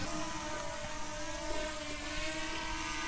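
Motors of a DJI Mini 4 Pro drone whine at high pitch while straining to lift weight, a steady close buzzing drone with a faint wavering tone and no pause.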